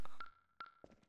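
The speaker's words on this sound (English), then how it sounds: "I have no idea what all these beeps and sounds are." Electronic beeps from a laser puzzle room in Half-Life 2: Episode 2, a sustained tone with two sharp pings, then softer blips trailing off, no voices.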